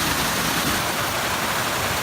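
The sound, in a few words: mountain creek flowing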